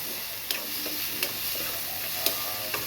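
Shallots, ginger, garlic, curry leaves and green chillies sizzle in a pan for a tomato fish curry, with a soft constant frying hiss and regular clicks of a spoon stirring against the pan.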